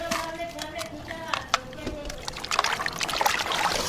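Water poured over raw chicken being washed in Ethiopia, a close trickling and sloshing splash that grows busier toward the end, with a voice talking over it.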